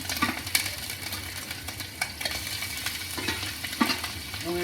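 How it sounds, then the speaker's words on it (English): Pork ribs sauté in a lightly oiled pan over medium-low heat for sweet and sour garlic short ribs, giving a steady close sizzle with a few sharper pops and a scrape or two of stirring, no talking. "Now we're going to add our pork ribs to this."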